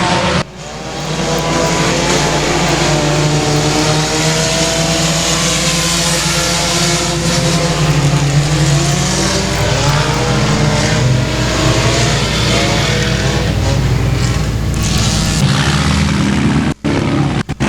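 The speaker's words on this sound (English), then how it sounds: "We'll wait till all the cars exit, please." Race cars at Boothill Speedway roar loudly and steadily as they drive off the track after the race, a continuous close engine drone that holds for the whole stretch with no talk.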